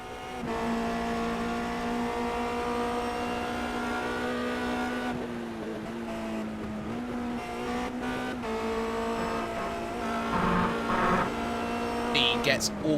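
A Formula Renault 2.0 race car at Brands Hatch holds a steady, loud engine drone throughout, pitch shifting with gear changes and small dips, while a commentator talks over it.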